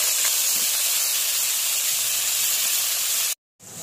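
Onions hitting hot oil already seasoned with cumin, green chillies and a bay leaf, making a loud, continuous hiss that cuts off abruptly near the end before faintly resuming.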